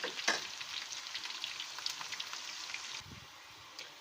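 Onions frying in a pan until golden brown for chicken nihari give a steady, close crackling sizzle with scattered sharp pops, easing slightly toward the end, with no talking.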